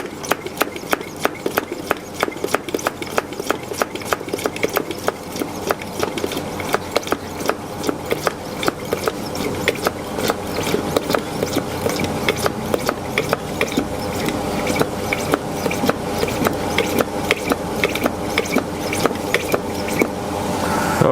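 A hand pump pushes transmission fluid into a hot Porsche Cayenne, making a steady, regular run of mechanical clicks and ratcheting strokes that keeps going, fairly close and loud.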